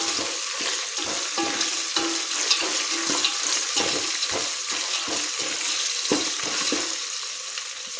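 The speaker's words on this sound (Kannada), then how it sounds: "ಬೆಳ್ಳುಳ್ಳಿ ಭಾಳ ಹಚ್ಚಿಸ್ಬಾರ್ದ್ರಿ, ಅವು ಸ್ವಲ್ಪ ಫ್ರೈ ಮಾಡಬೇಕು." Garlic fries in a pan with a steady hiss, broken by repeated scraping strokes of a spoon, roughly one every half second, close and fairly loud. No one talks.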